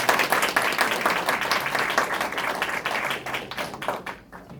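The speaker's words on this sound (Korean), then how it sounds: "큰 박수 부탁드립니다." An audience at a citizens' lecture in a hall claps together in sustained, dense applause that holds steady, then thins and fades out at the end.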